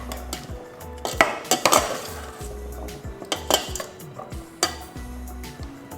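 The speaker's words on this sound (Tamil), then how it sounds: "லைட்டாக மிக்ஸ் பண்ணி விட்டுறலாம்" Curry is stirred in a cooking pot with a metal utensil, producing irregular clinks and scrapes against the pot, with a few louder knocks among softer shuffling sounds, close up and without talk.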